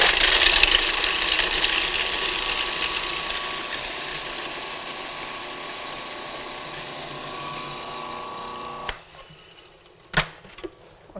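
A food processor purees celery and green onions, its motor whirring loud at first and then easing into a steadier hum before stopping, followed by a few brief clicks and knocks.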